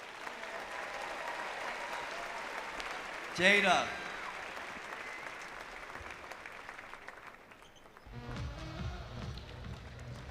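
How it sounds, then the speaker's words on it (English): Crowd in a college basketball arena applauds a former Kentucky player now serving as an official, a broad steady wash of clapping with cheers, a brief louder burst early on, and a voice speaking over it near the end. "So let's give her a round of applause."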